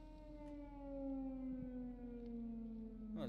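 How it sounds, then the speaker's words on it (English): The Siren Head monster in a horror video game wails with a steady, droning civil-defense-style siren tone that slowly falls in pitch, heard alone at moderate volume with a faint distant rumble underneath. "Is that siren head?"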